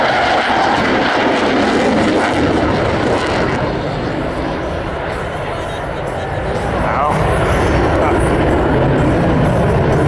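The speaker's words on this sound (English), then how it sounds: "Watch as Tab and Rooney approach and rapidly execute 2 high-performance turns, demonstrating the Super Hornet's agility" A Navy F/A-18 Super Hornet roars through high-performance turns at the Jones Beach Air Show, a loud sustained jet roar that swells and ebbs, with a commentator speaking over it.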